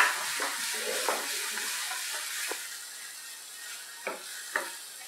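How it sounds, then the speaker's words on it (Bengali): Masala spices being sautéed over low gas heat in a pan for a Bengali paneer masala, a soft steady sizzle with occasional brief stirring scrapes, close and fairly quiet. "কমিয়ে দিয়ে মশলাটা কষছি"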